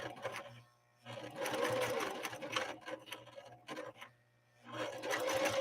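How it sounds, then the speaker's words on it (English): A Husqvarna Model 145 sewing machine sews very slowly in short stop-start bursts of chattering needle strokes, separated by brief quiet pauses. "So I'm going to sew as slow as I'm able"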